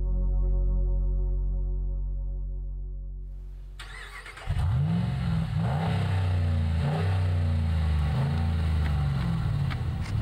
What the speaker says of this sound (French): Il est temps de démarrer l'énorme V8.